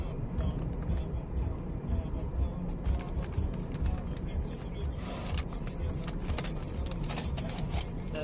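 Steady low road rumble and engine drone inside a moving car, continuous and fairly loud throughout, with faint talk-like sounds and small cabin clicks over the top.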